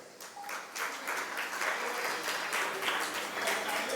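An audience at a Jain religious discourse in Bengaluru claps together in sustained, moderately distant applause that swells after a quiet start and keeps going throughout.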